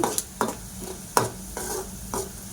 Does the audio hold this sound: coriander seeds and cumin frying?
yes